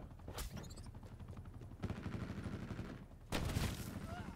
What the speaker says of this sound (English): this shotgun is garbage